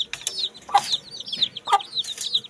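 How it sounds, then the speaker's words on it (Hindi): An Aseel rooster and hen cluck in short, close bursts mixed with sharp high chirps, repeating in an uneven rhythm with no talking. "अभी हम मुर्गा मुर्गी लेकर आते हैं"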